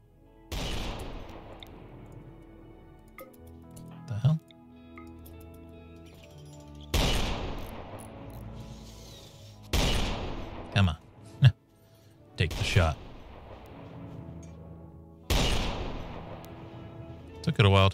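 Gunfire in the video game RimWorld: several separate bursts of shots with sharp attacks, spaced irregularly across the stretch, mixed with someone talking and other in-game sounds.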